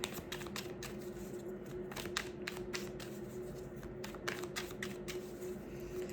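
Tarot cards shuffled by hand in a quiet room, a steady run of soft papery riffles and flicks over a faint constant hum, with no talk.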